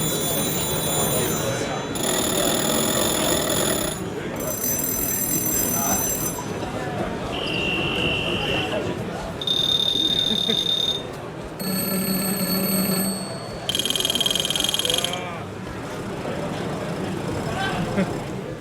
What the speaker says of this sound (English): I actually made a recording of all of the telephones